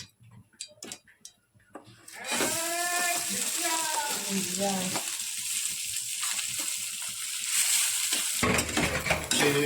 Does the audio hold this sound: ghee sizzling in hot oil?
yes